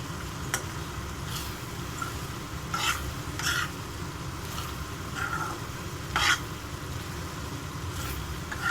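Paneer sizzles steadily in a pan as a paneer curry cooks, with a soft constant frying hiss and a few brief scraping stirs of a spoon against the pan, close and fairly quiet.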